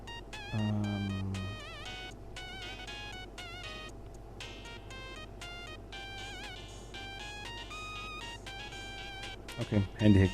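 A mobile phone ringtone plays a steady, repeating electronic melody through a home livestream, with a brief voice near the end.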